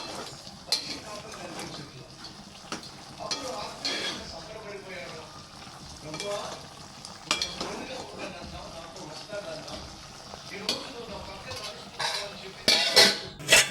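Chicken curry being stirred in a pan: intermittent scraping and clinks of a spoon against metal over a low simmer, with a person talking at intervals throughout.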